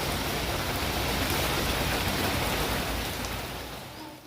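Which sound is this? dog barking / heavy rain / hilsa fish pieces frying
heavy rain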